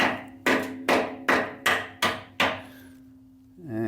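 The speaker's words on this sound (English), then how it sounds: "I'm just going to use a rubber mallet just to tap it through" A rubber mallet taps a bolt through the chassis of an HQ Holden one-tonner, six evenly spaced thuds, each ringing out with a metallic tone, then a brief squeak at the end.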